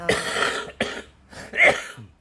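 A person with asthma coughs several times in short, harsh bursts, fairly close, with a brief pause between coughs.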